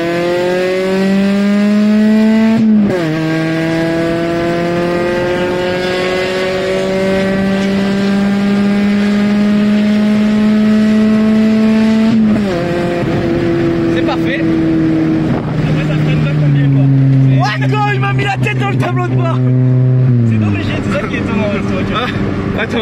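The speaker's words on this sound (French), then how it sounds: "si tu veux ralentir et nous faire une petite accélération en restant à 80 km/h" A Ford Fiesta ST pulls hard on a main road, its engine climbing in pitch through repeated gear changes, loud and close from inside the car, while someone talks over it at times.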